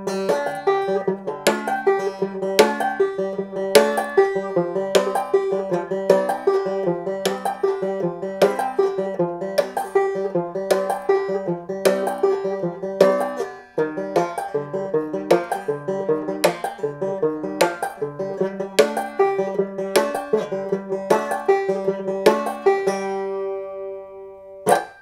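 Banjo plays a quirky picked part from a folk album, with bright, rapid rolling notes and regular sharp attacks running continuously and close, ending on a held final note.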